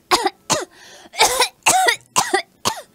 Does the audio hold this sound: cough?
yes